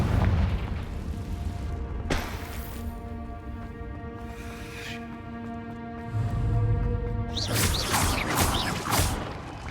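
A Confringo fire spell explodes in the Hogwarts Legacy game, a sharp blast near two seconds, then a loud burst of crackling bangs around seven to nine seconds over a steady droning game score.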